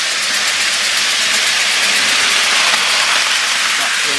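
Model trains circle a Christmas tree with a steady, loud hissing rush and faint rail clatter running unbroken throughout, with no clear speech over it.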